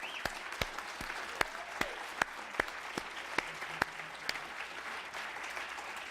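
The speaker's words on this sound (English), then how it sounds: "I think he deserves a round of applause." An audience at a Kansas City Public Library talk applauds, with sustained clapping across the whole stretch and a few sharp, louder claps standing out from the steady patter.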